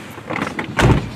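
A door opens with a brief rattling slide followed by a heavier thump near the end, close and fairly loud with no talking.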